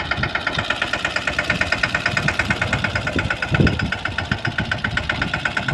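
A mini tractor engine runs steadily on a green field during inter-row work for groundnut, producing a close, loud chugging drone with a regular rapid pulse and a brief louder surge midway.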